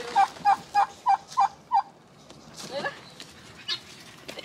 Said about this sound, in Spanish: Mira, ahí va el guajolote ya.